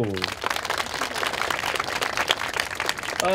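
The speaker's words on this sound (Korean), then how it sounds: "우리 동문들께 박수" An audience at a university emergency debate forum applauds alumni, with steady, dense clapping that fills the room throughout and a voice briefly heard at the start and the end.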